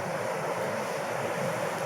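Water rushing over a dam at Desoto Falls in Mentone, Alabama, a brief steady broadband wash heard fairly close.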